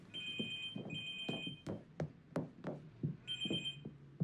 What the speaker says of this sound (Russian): Надь, телефон звонит.